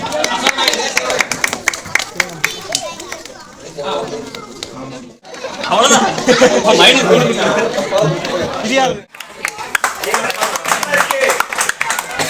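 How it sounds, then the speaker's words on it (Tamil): Crowd clapping at a New Year celebration prize ceremony, with dense applause in sustained waves and a few short pauses, mixed with chatter and an announcer's voice over a loudspeaker. "அடுத்தது கைதடி உற்சாகப்படுத்துங்க"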